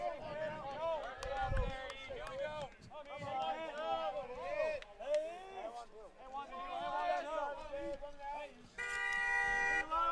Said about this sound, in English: Some aggressive honking in the parking lot.